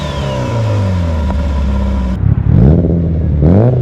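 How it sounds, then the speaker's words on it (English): An Evo 8 with an AGT 62mm turbo and anti-lag revs hard and loud. A sustained high-rpm drone drops away, then sharp blips and crackling pops from the anti-lag follow. "I'm gonna go test out my anti-lag and actually see how it shows coming from the hood exit and"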